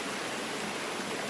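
A creek with small waterfalls rushes in a continuous, even broadband wash, steady and fairly quiet with no talk.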